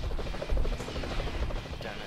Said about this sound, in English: Spider-Man versus helicopter